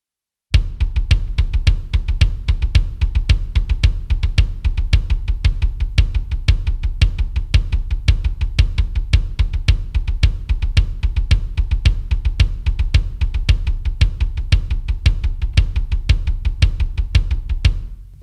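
Rapid, even double bass pedal strokes on a drum kit shift from a samba pattern into triplets and back, a loud, dense stream of kick-drum hits with cymbal wash lasting about seventeen seconds and no talk.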